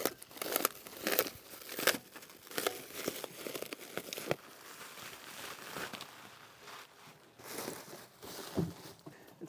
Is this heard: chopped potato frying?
no